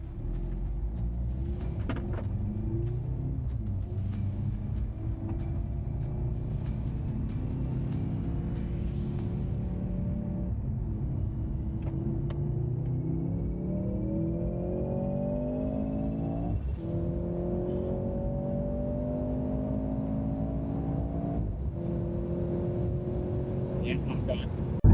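A 2023 Mercedes C43 AMG and a 2022 Genesis G70 3.3T accelerate hard in a drag race, their engine notes rising steadily through the gears with shift dips, loud and continuous, while voices talk over them.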